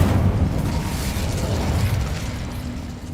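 Incendio fire spell cast in Hogwarts Legacy, a loud rumbling whoosh with crackling bursts that sustains and slowly fades over a few seconds.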